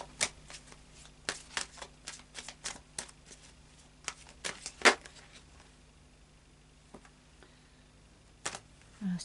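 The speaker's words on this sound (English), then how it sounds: "I'll just pop him back in, a bit more of a shuffle." Tarot cards being shuffled by hand, a series of crisp riffling snaps and taps, dense at first then thinning to a few isolated clicks, close and fairly quiet.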